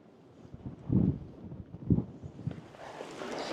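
Strong wind buffets the microphone in open desert at the Very Large Array, rumbling gusts swelling and dropping in bursts, rising into a broader rushing hiss toward the end.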